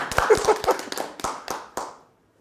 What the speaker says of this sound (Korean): 박수로 칠까요?